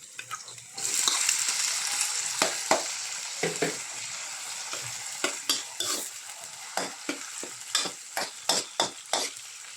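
Sliced onions and tomatoes stirred and cooked in a pan for tochong bangus: a continuous sizzle with a rapid series of rhythmic scraping stirs that grow more regular toward the end, close and fairly loud.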